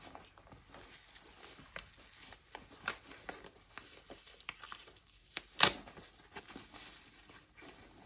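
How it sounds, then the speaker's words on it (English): Packaging around a Marc Jacobs Chianti leather mini tote bag crinkles and tears in quiet, scattered bursts, with one sharper rustle near the end and no talking. "So let's go ahead and unwrap this baby."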